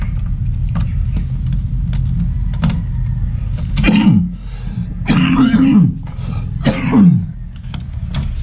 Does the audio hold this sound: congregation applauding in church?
no